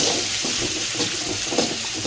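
Large onions frying in a pan for a dried-fish curry, a steady bright sizzle with soft stirring scrapes running throughout, close and continuous with no talking.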